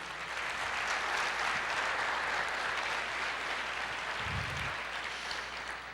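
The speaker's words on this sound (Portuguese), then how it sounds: "aplauda o Senhor" A church congregation claps steadily together for about six seconds, a moderate wash of applause that is heard alone without talk.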